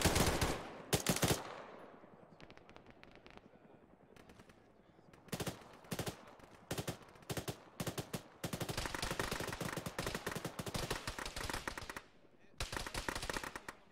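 Bursts of automatic machine-gun fire in a military shooter game, loud repeated volleys broken by brief pauses, with a voice speaking intermittently over the shooting.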